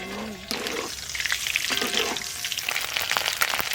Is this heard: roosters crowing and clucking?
no